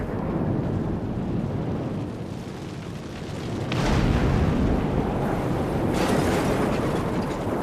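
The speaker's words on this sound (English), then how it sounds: "Bam! And then it's followed with roiling thunder." A heavy explosion shock wave hits, followed by deep roiling thunder, a continuous loud rumble that swells partway through with a few sharper bursts.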